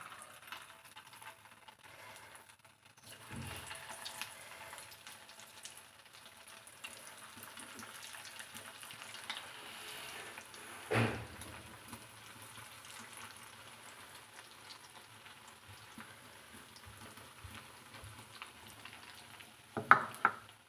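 Prawns frying in oil in a pan for prawn manchurian make a faint, steady sizzle close to the stove, broken by a few soft clatters of utensils and a sharper knock near the end, no voices.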